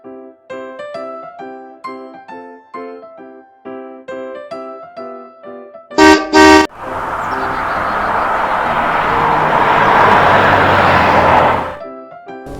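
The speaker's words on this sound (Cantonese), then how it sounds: "私家車 taxi" A toy taxi car plays a tinkly electronic melody, then sounds two short, loud honks of its horn, followed by a sustained hissing noise that cuts off.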